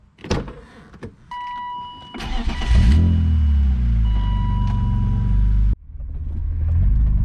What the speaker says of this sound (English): I'll hop in the car, let's go for a drive